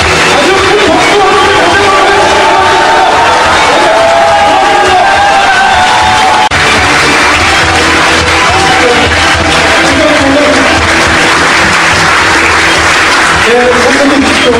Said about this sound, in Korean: 아주 큰 박수 한번